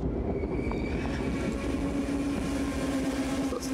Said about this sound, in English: I think this is a stop sound from the Copenhagen Central Station.